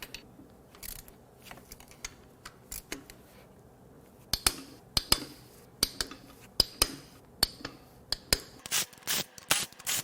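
Ratchet clicking in quick bursts while rod bolts are broken loose on a blown Chevrolet 2.4L Ecotec engine during teardown, sharp close metallic ticks in irregular runs with no talk.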